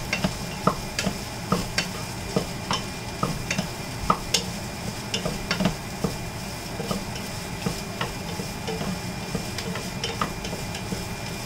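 Meat and onions frying for chilli, a steady close sizzle broken by regular spoon scrapes and taps against the pan at a brisk rhythm, with no voices.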